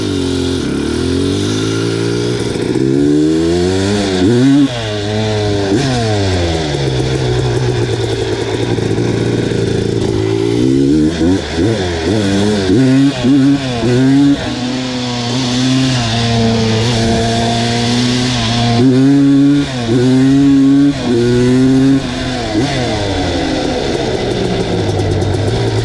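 A Honda 250R two-stroke engine, freshly fitted with a cleaned ESR power valve, revs loudly and continuously, rising and falling in repeated throttle sweeps and lugging pulls, close and alone.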